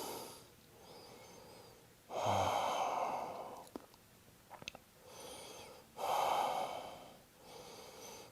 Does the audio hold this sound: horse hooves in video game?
no